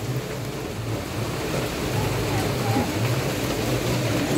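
Heavy rain pours steadily outdoors, a broad continuous hiss that swells slightly louder after the first second and stays dense to the end, with low rumbling underneath.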